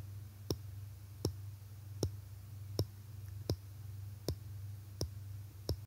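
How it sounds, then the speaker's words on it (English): Faint, evenly spaced clicks from the rotating bezel of a Citizen Promaster Dive Automatic watch, eight crisp ticks held close to the mic over a quiet low hum. "The bezel now has 120 clicks instead of 60, and it's so satisfying."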